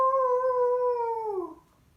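A voice imitates a werewolf howl with a single sustained, rising-then-falling tonal howl of about one and a half seconds, alone and fairly quiet in a spooky storytime.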